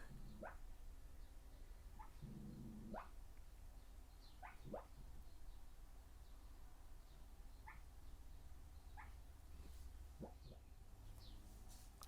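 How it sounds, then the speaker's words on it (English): Quiet, thin whimpers and little squeaky yelps come from a dog dreaming in its sleep. They are scattered irregularly over several seconds with a brief low grumble, faint and nearby against soft room hush. "That's my dog. He's dreaming."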